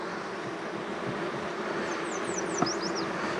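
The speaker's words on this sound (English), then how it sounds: "And listen to this colony. There's no queen in here." Steady, dense drone of a queenless honeybee colony inside an opened hive, a continuous close hum holding level throughout, with a few faint higher chirps near the end.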